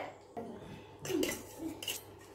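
Paneer biryani spooned from a pot onto a dish: faint scraping and soft clinks of a serving utensil against metal cookware, a few louder knocks in the middle, quiet and close, no speech.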